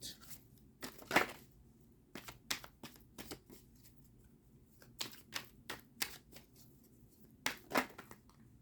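Tarot cards are shuffled by hand in a series of quick riffling, snapping bursts spaced irregularly, close and fairly quiet with no talk over them.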